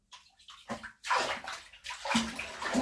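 Water runs into a bathtub with bubble bath, a bright rushing splash that surges in uneven bursts close by, with a faint voice at times.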